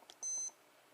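A single short electronic beep from an Accurist MB076 sports watch as its stopwatch side button is pressed, clean and close with no other sound.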